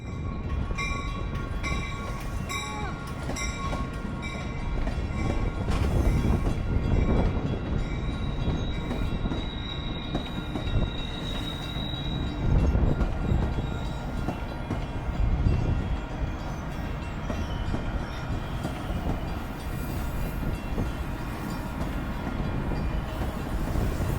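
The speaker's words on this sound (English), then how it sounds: "we would watch as the Amtrak Hiawatha service arrived into Union Station with Amtrak 90200 leading" An Amtrak Hiawatha train led by locomotive 90200, rebuilt from an F40PH, arrives at Chicago Union Station: a loud steady diesel rumble with rolling wheel noise, squealing tones and a brief horn-like note.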